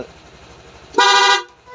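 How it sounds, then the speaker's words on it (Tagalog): A loud, blaring aftermarket horn on a Honda Click V2 scooter honks once in a short burst, close by, after a quieter moment with a low engine hum. "Pati sa loud horn, mga boss, naka ano na to, naka rapid. Loud horn, ito."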